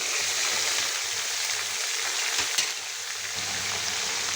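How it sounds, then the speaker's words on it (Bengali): Chopped onions sizzle steadily in a pan with pointed gourd and dried chela fish, a dense close frying hiss with a brief stirring scrape midway and no talk. "তারপর দিয়ে দিচ্ছি দুটো বড় সাইজের পেঁয়াজ কুচি করে"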